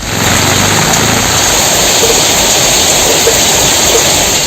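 Heavy summer rain pours onto flooded streets around Velachery in Chennai, making a loud, unbroken roar and rush of water close by throughout, with no voices.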